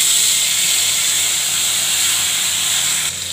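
Cumin, black cumin and poppy-seed chilli paste sizzle in hot oil for begun posto, a loud, even, hissing crackle close up that drops slightly near the end.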